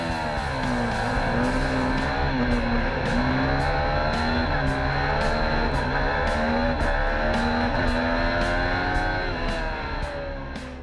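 A 2017 Spartan Racing formula student race car's engine revs hard and close at FSAE Michigan, its loud high-pitched whine rising and falling as it accelerates through gear changes, with no talking.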